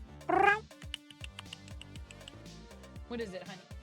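A house cat gives one clear, loud meow near the start, then softer chirping mews a few seconds later, with a person speaking quietly between them.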